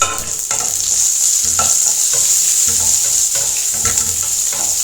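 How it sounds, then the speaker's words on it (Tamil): Curry leaves, crushed ginger and garlic fry loudly in a pan for a roasted-mango rasam, under a constant sizzle with repeated scraping stirs, close and without speech. "இப்போ நம்ம கிளறி விட்டுட்டு இந்த கருவேப்பிலையும் இஞ்சி பூண்டெல்லாம் பொரிய ஆரம்பிச்சிடும்"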